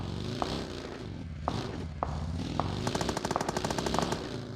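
PUBG gameplay with gunfire: a few single sharp shots spaced apart, then a rapid automatic burst, all at moderate level over a droning game soundscape.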